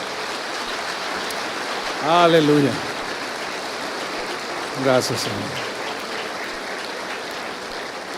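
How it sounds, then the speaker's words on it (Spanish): A church congregation claps steadily throughout, a dense even wash of applause under two short spoken phrases of praise from a worshipper. "Denle otro aplauso al Señor"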